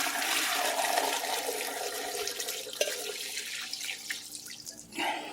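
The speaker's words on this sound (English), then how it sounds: "I'm going to strain off all the liquid" Chicken bone broth being strained, a steady broadband rush of pouring liquid that runs loud and continuous before thinning out and ending with a final splash, with no talking.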